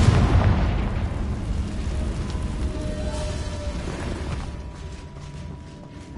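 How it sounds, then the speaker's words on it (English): A Confringo spell explosion in the Hogwarts Legacy video game goes off as a heavy, rumbling blast at the start, then a long crackling tail that slowly fades. "Confringo."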